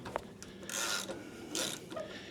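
Ratchet wrench loosening a spark plug on a Toro snowblower, with short bursts of rapid metallic clicking and rasping, close up, in two main strokes separated by brief pauses, and no voices.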